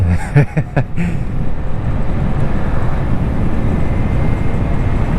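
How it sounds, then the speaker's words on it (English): A small moped engine runs flat out at full throttle on a chilly ride, a steady, loud, rough drone with wind buffeting that carries on without a break. "riding this little fucking moped around? Just scraped her. Literally full throttle."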